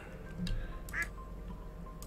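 Ducks quack inside the Stardew Valley farming game: a couple of short nasal quacks stand out over a steady low game background, with a faint voice murmuring at the edges.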